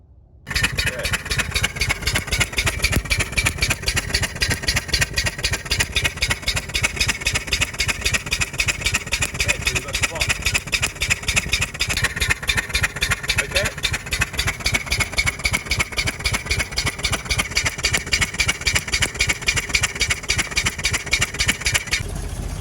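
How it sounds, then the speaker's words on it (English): Series 3 Land Rover engine idling after a fresh Champion spark plug, steady rhythmic low chugging pulses running throughout, close and fairly loud, with someone talking over it. "So we've changed one spark plug, which was the first one, and restarted the motor. It's idling better."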